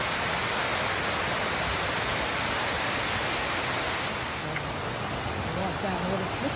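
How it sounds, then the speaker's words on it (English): Water spilling over a dam in a gorge along a hiking trail, a steady broadband rush heard from below, constant and fairly loud with no pauses, and a faint voice briefly under it near the end. "water falling over the dam a little bit from down here"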